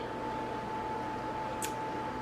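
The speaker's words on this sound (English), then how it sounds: "If you guys hear that little humming in the background, that is my oven" A kitchen oven gives off a low, steady hum that stays constant throughout, with no voices, and a faint brief hiss rises near the end.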